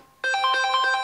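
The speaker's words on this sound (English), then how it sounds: "Oh no, my phone's ringing." A mobile phone ringtone bursts in after a brief moment of quiet, a loud, bright electronic melody ringing on its own in a quiet room.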